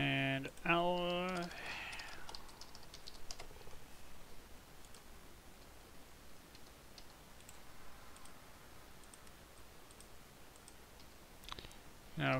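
Sharp, faint mouse clicks from Minecraft gameplay, a few scattered taps near the end after someone talks briefly at the start, with quiet background hum in between.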